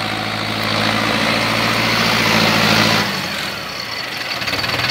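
The heavy diesel engine of an Arjun Novo 605 DI tractor idles nearby with a low, steady rumble that lightens and changes character partway through.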